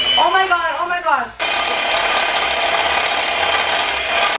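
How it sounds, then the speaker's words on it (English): A hand whisk beats a mixture in a bowl with a steady, dense scraping rattle close by, starting abruptly after a short stretch of speech and continuing unbroken for about three seconds. "Now I gotta mix it. So I'm using this whisk."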